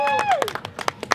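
Audience applause for a band at a lively music show, a short burst of claps following a shouted voice, scattered and close.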